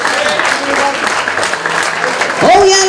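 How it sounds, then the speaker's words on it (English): Steady crowd clapping at the Isle of Wight Wightlink Warriors end-of-season awards night fills the room and swells louder near the end, with voices talking over it. "give him a round of applause"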